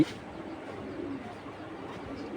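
A pigeon coos softly and steadily at close range, a low murmuring call over a faint background hiss; the bird is a young male of a prized foreign show breed with multicoloured eye rings.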